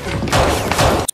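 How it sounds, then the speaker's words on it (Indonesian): A burst of rapid gunfire rings out loud and close, two dense volleys in quick succession, ending abruptly in silence. "Suara tembakan tersebut spontan memancing kecurigaan Miro"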